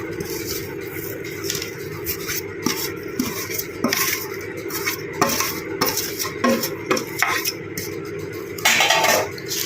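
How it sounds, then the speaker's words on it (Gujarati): Finely chopped jaggery mixed into a mango pickle spice mix, heard as repeated metal spoon scrapes and clinks against a bowl in an uneven rhythm, close and clear with no talk. "હવે ગોળને આપણે સારી રીતે મિક્સ કરી લઈશું"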